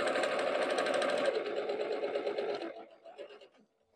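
A sewing machine stitches a seam on a Christmas stocking with fur trim, a fast rattling run of needle strokes for a few seconds that slows and stops, followed by a few short back stitches.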